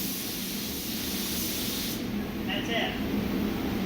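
A spray gun lays a light control coat of paint on a 2016 Chevy Cruze during body work, giving a steady close hiss that continues throughout with a brief airier burst near the end.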